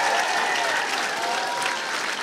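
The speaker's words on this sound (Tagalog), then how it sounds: "Palakpak ng lakas" A church congregation claps loudly and continuously, a dense wall of many hands with no break for the whole moment.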